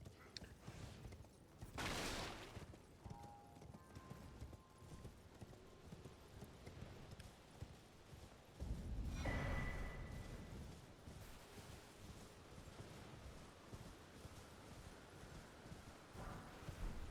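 Hooves of the spectral horse Torrent clip-clop in a rapid galloping rhythm within a video game, moderately quiet, broken by a couple of louder bursts and swooshes.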